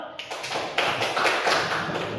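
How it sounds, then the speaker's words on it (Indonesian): A classroom of students claps together, a dense quick patter of many hands sustained evenly at close range with no talk over it. "Oke, tepuk tangan untuk kita semua"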